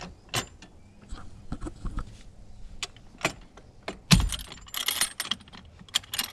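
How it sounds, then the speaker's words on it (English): A fire extinguisher is set into its bolted bracket in a Mitsubishi Evo X: scattered metallic clicks, clunks and rattles of fitting hardware, with one louder knock midway and a brief jangle near the end, close and fairly quiet. "Here's our fire extinguisher itself, so we'll put it in."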